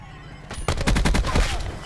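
Dense burst of automatic gunfire from enemy players in a first-person shooter on a multiplayer map, starting abruptly after a faint lead-in and continuing as rapid, loud overlapping shots.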